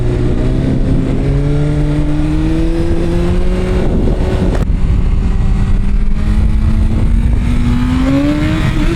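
An upgraded 10R motorcycle pulls hard under big throttle, its engine note climbing steadily through gears with a loud, continuous high-revving roar heard close up from the rider's position.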